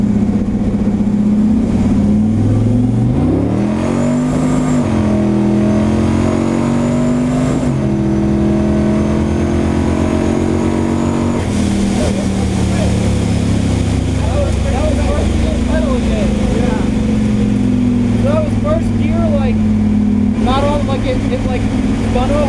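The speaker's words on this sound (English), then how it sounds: "I just like left the throttle like almost full throttle" An LSx V8-swapped Ford Falcon pulls at almost full throttle. The engine note climbs loudly and strongly through the revs, eases briefly, then builds again, with people talking over it.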